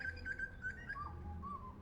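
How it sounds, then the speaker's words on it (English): City birds in Sydney, Australia call with clear whistled notes, a short run of repeated high tones followed by a lower sliding whistle, fairly faint over a low background hum. "the birds in Sydney are just crazy. They're crazy and they're loud and they make the craziest noises you've ever heard a bird make"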